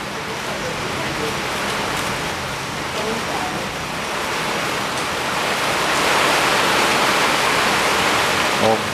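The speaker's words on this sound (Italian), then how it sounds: "era tanto che non sentivamo il rumore della pioggia sul tetto e la luce dei lampi e il tuono dei tuoni." Heavy rain drums on a roof during a thunderstorm, a dense steady hiss that grows slightly louder toward the end and fills the whole stretch; no distinct thunder or talk stands out.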